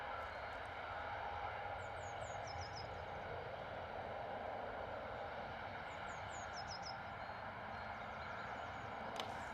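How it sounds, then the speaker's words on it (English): EasyJet airliner departing Bristol Airport for Tenerife, a faint, distant steady jet engine roar with a few brief bird chirps over it. "EasyJet off to Tenerife."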